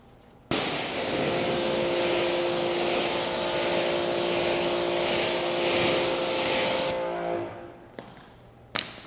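A Ryobi ONE+ HP brushless compact battery blower runs at full speed drying a car, giving a loud steady whoosh with a high motor whine that starts abruptly, holds for about seven seconds, then winds down and clicks off.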